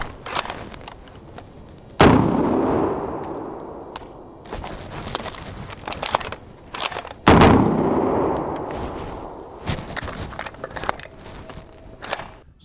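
Two sharp unsuppressed shots from an FN SCAR rifle fitted with an adjustable gas regulator, each a loud close crack with a long ringing tail, spaced about five seconds apart, with faint handling clicks and footsteps between.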